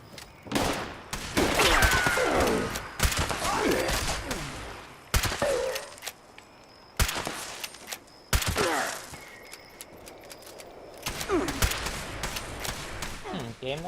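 Lever action rifle fire in Fallout 76, several sharp loud shots spaced irregularly through the stretch, with a commentator's voice running underneath between blasts.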